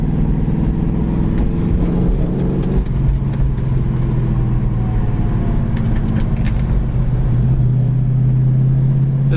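A 1967 Ford Mustang drives along with a steady, loud mid-range engine drone, the pitch dropping and settling as it shifts gears partway through, with no talk over it.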